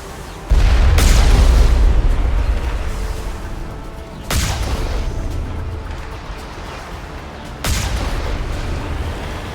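Enemy artillery fire in the video game Mass Effect: three heavy booming blasts, each with a sharp onset and a long rumbling decay, spaced a few seconds apart and loud against a low background.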